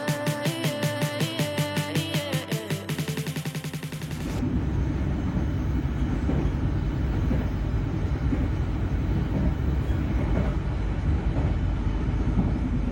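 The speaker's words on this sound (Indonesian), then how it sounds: "kereta api Gaya Baru Malam Selatan sudah tiba di stasiun Kutoarjo" Gaya Baru Malam Selatan economy train pulling into Kutoarjo station, a loud, steady rumble and rolling rail noise building after a brief burst of music, continuous and close throughout.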